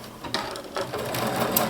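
A home sewing machine stitches fabric at a longer stitch length, its motor whirring with quick rhythmic needle taps that rise and fall in short bursts.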